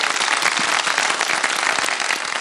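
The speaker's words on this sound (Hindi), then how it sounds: "मुस्कान के हाथों के लिए बहुत सारी तालियां बजा दें मेरा ख्याल है भाई" Sustained applause from a studio audience during a children's segment of a TV show, dense and steady clapping throughout with no talking.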